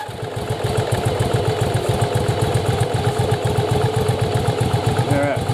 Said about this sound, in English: let's fire the bike up, and then I'll show you what it's supposed to look like when it runs